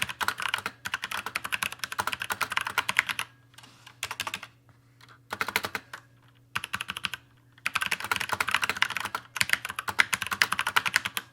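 Fast clattering keystrokes on a mechanical keyboard come in bursts of rapid typing, broken by short pauses, close and crisp over a faint low hum.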